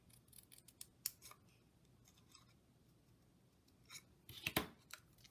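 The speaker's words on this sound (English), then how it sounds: "I'm going to take our paper snips, and I want to just cut out a little V to make the banner" Paper snips cut a small V into a paper banner during card stamping, with a few light snips early on and then a quick cluster of sharp, close cuts near the end, quiet otherwise.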